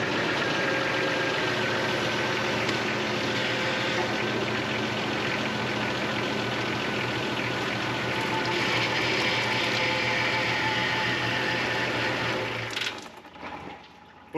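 A car engine idles steadily and close by while the power steering is turned back and forth during a blown power steering seal job. The low hum runs continuously before cutting off near the end.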